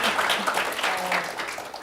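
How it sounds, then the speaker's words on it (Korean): Attendees at a Korean book talk give a short burst of applause, dense and fairly loud, lasting under two seconds before it begins to thin out. "긴 시간 말씀 나눠주신 안기령 부대변인께 마지막으로 박수 부탁드리겠습니다"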